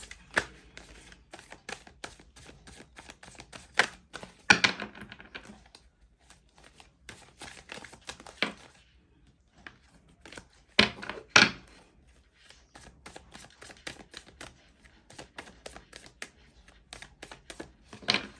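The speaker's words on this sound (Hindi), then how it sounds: "चार कार्ड्स यहाँ से निकालूंगी मैं" Tarot cards handled on a table: scattered soft shuffling rustles and light taps come in short bursts between quiet pauses, close but faint.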